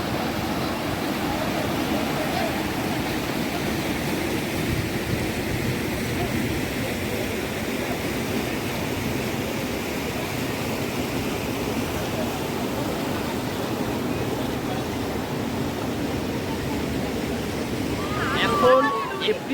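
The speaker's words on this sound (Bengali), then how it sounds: "আর এখানে জলের ফোর্সটা দেখুন জাস্ট।" Fast river water rushes at Dawki, Meghalaya, in April, making a loud, steady broadband roar throughout, with a brief clatter near the end.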